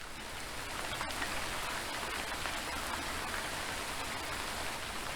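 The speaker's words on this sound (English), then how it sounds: "Hear the drops fluttering through the leaves and spilling onto the grass?" Steady warm summer rain patters on leaves and grass, a soft continuous hiss of drops with no voices.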